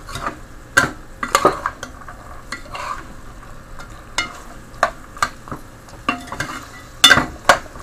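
Chicken and basmati rice fry in a pot, a low sizzle under sharp, irregular stirring clanks and scrapes of a utensil against the metal, close and loud with no talk.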